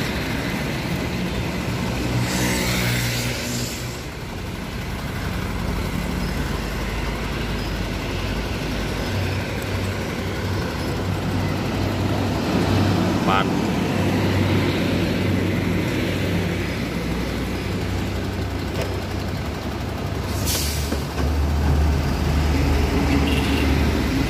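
An old truck pulls a three-axle, twelve-wheel flatbed trailer in a continuous low diesel rumble of passing traffic, with a rising whoosh near the start and brief hiss bursts, heard outdoors with no voices.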